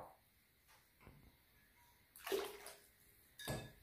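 Water pours into crêpe batter in a couple of short splashing bursts, with quiet pauses between them.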